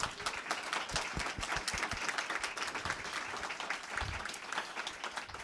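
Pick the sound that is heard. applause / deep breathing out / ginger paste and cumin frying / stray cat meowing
applause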